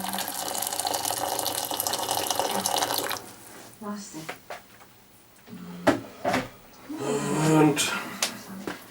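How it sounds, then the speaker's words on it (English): Half a liter of water pours steadily into a pot for porridge for about three seconds, a dense rushing splash, followed by clattering kitchen knocks and a person talking. "You pour half a liter of water."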